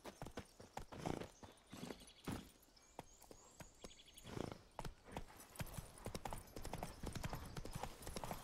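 Roach, the horse in The Witcher 3, gallops with steady, close clip-clop hoofbeats throughout, a brief whinny partway through and someone talking loosely over the game sounds.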